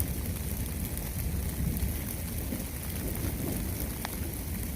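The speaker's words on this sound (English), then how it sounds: "lots of rain." Steady rain pouring down on the Pacific Crest Trail during a thunderstorm, a dense even hiss with a faint low rumble beneath and a few drops pattering close by, no talking.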